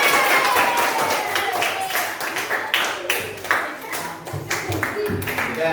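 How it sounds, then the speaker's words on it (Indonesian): A school class claps for a classmate, a burst of uneven hand claps from many children that gradually thins out and slows. "Kita beri tepuk tangan buat temannya sudah."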